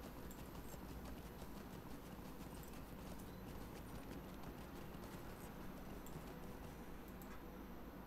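Horse hooves clip-clop steadily in the Lord of the Rings Online game, a continuous, even rhythm of quiet hoofbeats over soft background noise.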